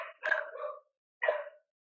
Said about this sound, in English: Eventually, Spock will stop barking.